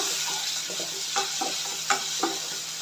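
Tomatoes with ginger-garlic paste sauté in hot oil for a chicken rassa, giving a steady close sizzle with several soft scraping stirs of a spoon in the pan.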